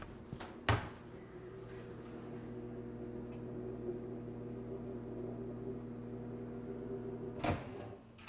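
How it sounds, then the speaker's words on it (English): A microwave oven runs with a steady mechanical hum while heating candy, a clunk near the start and another near the end like the door or latch, no talking over it. "So let's all microwave it together."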